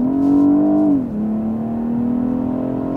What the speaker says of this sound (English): You can hear the engine has kicked up there a little bit.